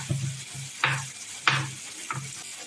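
Fish roe frying and being stirred in a pan, a steady low sizzle broken by about four sharp scraping stirs of the spoon, close and moderately loud, with no talk.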